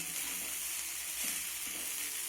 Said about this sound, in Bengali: ম্যাগি মশলাটা দেওয়ার পর আমি আবারও নেড়ে চেড়ে এটাকে রান্না করে নেব তবে এই কাজটা বন্ধুরা গ্যাসের ফ্লেমটাকে বাড়িয়ে করতে হবে